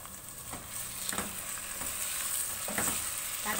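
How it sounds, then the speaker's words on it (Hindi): Half a kilo of beef mince frying in a pan over high flame, a steady soft sizzle broken by a few scraping stirs of the spoon at roughly even intervals. "इसको अच्छे से भूनेंगे"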